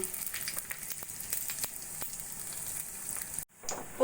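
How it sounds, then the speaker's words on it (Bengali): Cumin, bay leaf and cardamom crackle and sizzle in hot oil in a wok with a continuous hiss and scattered pops, then a brief cut and the sizzle resumes. "কড়াইতে তেল গরম করে দিয়ে দেব জিরে তেজপাতা আর দুটো এলাচ ফোড়ন"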